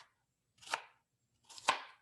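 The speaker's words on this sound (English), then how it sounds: "I'm just going to take about that much of the red onion, and I just take that and I cut it" Knife chopping through red onion for a cooking dish, two crisp, separate cuts with a short pause between them, close and clear with no talking.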